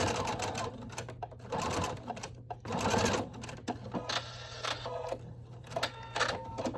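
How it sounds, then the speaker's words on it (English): Sewing machine stitching a straight seam down a fabric face mask, bursts of rapid needle clatter starting and stopping in short runs, close and clear with no talk. "you're going to just sew a line straight down"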